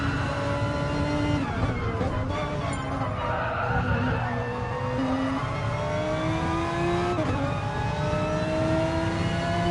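A race car engine heard on board in a sim racing video game at Fuji, a loud continuous whine rising and falling through gear changes and braking, with no talk over it.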